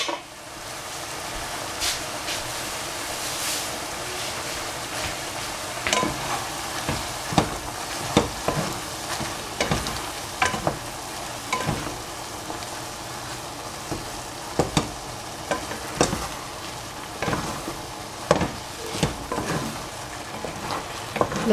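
Egg and tomato frying in a pan, a steady sizzle with frequent crackling pops and occasional stirring scrapes, continuous and close throughout.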